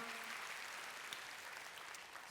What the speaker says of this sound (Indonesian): Kita berikan tepuk tangan buat Tuhan kita yang mulia.